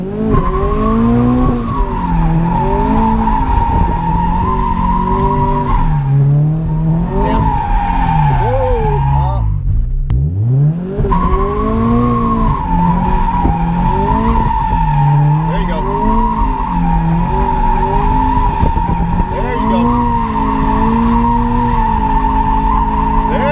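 A turbocharged Subaru BRZ drifts with its tires skidding and squealing over a loud, continuous engine drone that rises and falls through the run.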